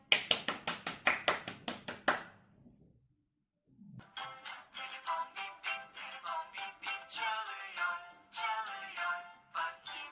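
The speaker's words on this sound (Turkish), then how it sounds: "Kendinizi kocaman alkışlayın çocuklar" A short burst of rhythmic clapping, then a pause, followed by longer, denser applause from several small hands of three- to four-year-old children, close and lively.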